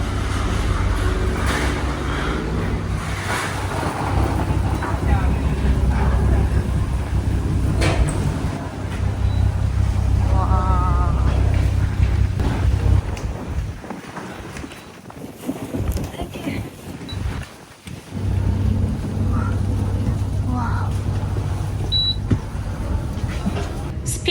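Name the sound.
speedboat ride to Bintan, Indonesia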